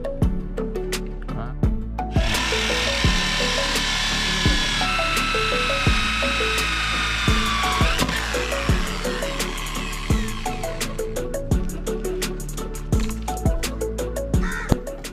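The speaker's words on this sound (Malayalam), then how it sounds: "അപ്പോൾ അതൊന്ന് അടയാളപ്പെടുത്തിയ ശേഷം ആ ഹോൾ നമുക്ക് തയ്യാറാക്കാം." A drill bores a hole in bamboo for a handmade bamboo bicycle. A rapid series of sharp ratcheting clicks and knocks is heard, with a whirring drill tone in the middle stretch.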